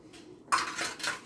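Dirty dishes and cutlery are set into a kitchen sink, giving a short burst of clinking and clattering metal and crockery, close and moderately loud.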